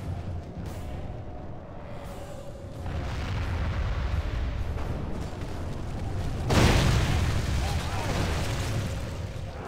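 Catapult fire and distant battlefield booms rumble through a Medieval 2 Total War siege, a low continuous roar with a heavier burst partway through, while a voice talks over it.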